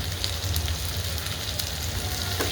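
Ginger garlic paste and tomatoes frying in a pan for soybean kheema give a soft, steady sizzle and crackle, fairly quiet and uninterrupted.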